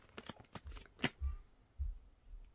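Tarot cards are shuffled in quick riffling bursts followed by a few soft taps and thuds as the deck settles, faint and close in a quiet room.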